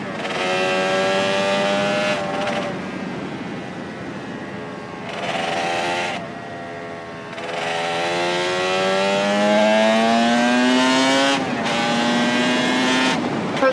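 A two-stroke Suzuki RG racing motorcycle screams around the Cadwell Park circuit, its high buzzing engine rising through the gears with brief drops at each shift, loud and close throughout.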